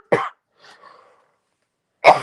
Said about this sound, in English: So I'm gonna cough.